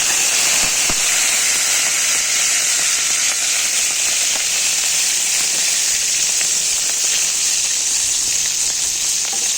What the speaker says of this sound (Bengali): কারি পাতাটা একটু ভেজে নেব